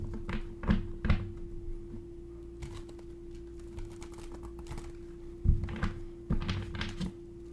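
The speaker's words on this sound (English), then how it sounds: "Do one more shuffle for choice B." Tarot cards being shuffled at close range in a quiet room, soft papery riffles and taps arriving in short bursts with pauses between, over a steady low hum.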